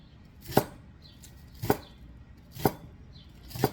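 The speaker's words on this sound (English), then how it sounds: "2 green onions chopped." Green onions chopped on a cutting board with a knife: four separate, evenly spaced sharp thunks, close and clear against a quiet background.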